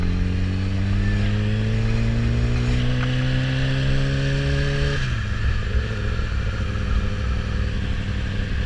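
Motorcycle engine revving and accelerating as a biker overtakes slow-moving cars, a steady loud drone whose rising pitch builds for five seconds, then drops sharply and settles into a lower rumble with road noise.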